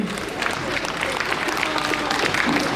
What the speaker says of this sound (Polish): Wielkie brawa dla przedstawicielki sołectwa